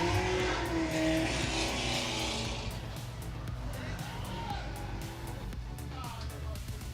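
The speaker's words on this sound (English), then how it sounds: "All I hear is Josh's car right now" BMW drift car engine revving at a speedway, heard from indoors: a loud sustained roar that gradually fades, with speech over it.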